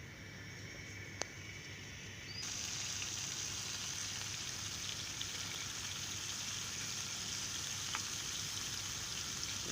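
Marinated paneer frying in a pan, a steady, dense sizzle that continues without a break and grows slightly brighter partway through, with no talking.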